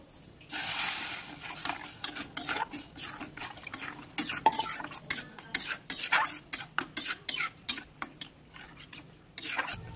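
A spoon scrapes and stirs semolina cooking with water in a pan, repeated quick scraping strokes in an irregular rhythm, close and fairly quiet, with faint sizzling underneath.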